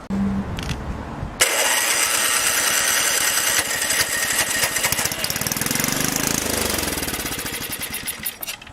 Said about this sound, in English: You have a good engine, ladies and gentlemen.